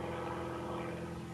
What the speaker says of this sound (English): Little weather plane up there.